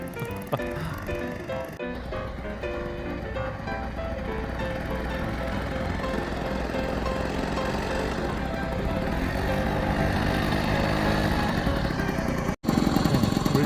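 A Honda Joy scooter's small engine hums steadily and close as it rides round and round in circles, its tone rising and falling slightly with each turn, ending with a brief cut before continuing.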